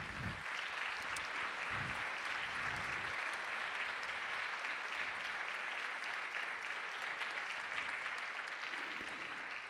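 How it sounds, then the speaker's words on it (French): A conference audience applauds speakers coming on stage, with dense, continuous clapping that holds steady for the whole stretch, broad and fairly distant, and faint voices mixed in early on. "je vous demande de les applaudir"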